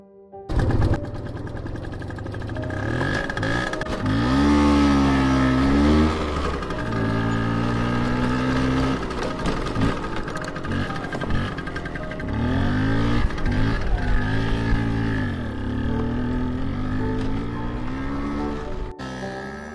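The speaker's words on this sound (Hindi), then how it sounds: "और स्कूटर लेकर जाने लगता है।" A scooter in a horror story for children rides away: a loud, continuous engine drone with rising and falling, pitch-sweeping tones like revving, lasting around twenty seconds with no talk.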